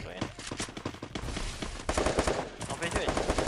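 Rapid gunfire bursts in a 4v4 video game match, dense fast shots repeating throughout at moderate level with players' voices faintly mixed in.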